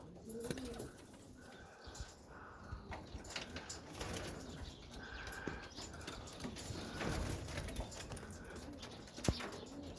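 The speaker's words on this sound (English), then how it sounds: "And they're out in the aviary. Having a good look around." Young pigeons cooing and shuffling about in an aviary, soft repeated coos and occasional wing flaps and scratching, fairly quiet and close, no talk.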